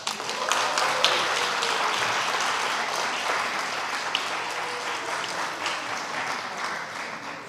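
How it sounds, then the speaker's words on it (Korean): A crowd applauds steadily for several seconds at a civic proposal contest after a youth team's presentation, a dense wash of clapping that slowly tapers off. "박수 소리가 한 톤이 더 올라갔습니다."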